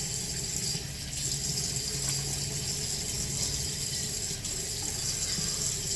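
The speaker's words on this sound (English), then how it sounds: "you're going to want to get your whole face wet." Tap water runs steadily into a bathroom sink as a face is wetted for cleansing, a constant close splashing hiss with no talk over it.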